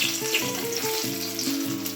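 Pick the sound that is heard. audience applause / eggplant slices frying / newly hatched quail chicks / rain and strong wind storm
eggplant slices frying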